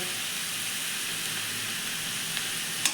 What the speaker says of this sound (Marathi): आपला कांदा छान असा परतून होत आलेला आहे आपला कांदा थोडासा परतत आलेला आहे